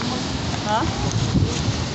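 Steady wind buffets and rushes across the microphone in a constant broadband roar, with faint muffled voices beneath it, on a windy night in the Philippines.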